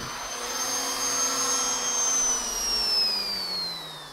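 A Lindhaus HF6 vacuum cleaner drones steadily with a high, slowly falling whine while picking up dryer sheets, running continuously without any voices.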